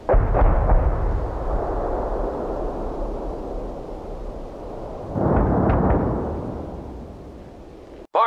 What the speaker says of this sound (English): As soon as the barrage ends, I want you to attack.